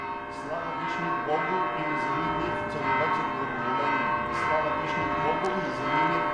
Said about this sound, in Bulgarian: Чуваме празничният камбанен звън, който възвестява началото на Светата Божествена литургия